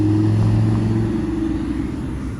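Lamborghini Huracan LP610 Spider engine at a supercar rally in Monterey, a loud, close, steady low rumble that eases off slightly toward the end.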